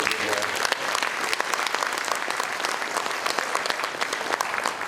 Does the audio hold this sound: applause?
yes